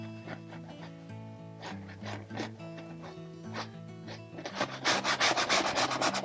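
A paintbrush scrubs sap green and cadmium yellow paint onto canvas for a simple background, giving a run of close, rhythmic rubbing strokes that grow louder and denser toward the end, with no talk.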